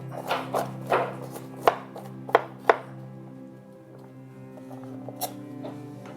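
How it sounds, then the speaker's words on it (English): Raw garlic being diced with a knife on a board: a series of sharp chopping knocks, several quick and a few louder, then quieter scraping and one last tap, all close and without talk. "We're down to the actual raw pieces, and we're going to go ahead and get that diced up"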